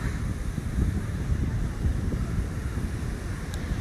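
Wind buffets the microphone over rolling surf at a seaside beach on Taiwan's north coast. The rumble is constant and broad, with no clear voices.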